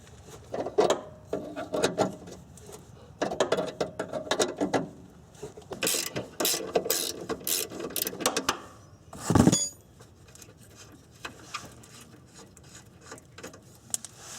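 Wrench turning a nut on the rear suspension lateral link of a Nissan Maxima, heard as clusters of close metallic ratcheting clicks and clanks with one sharp louder clank near the middle, then quieter handling, no talk.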